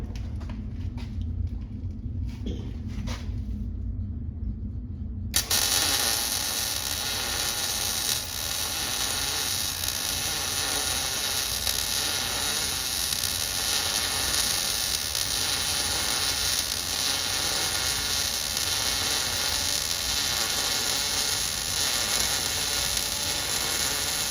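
MIG welder working on a metal fence stretcher, a low hum that breaks into a steady loud crackling hiss which continues without a break.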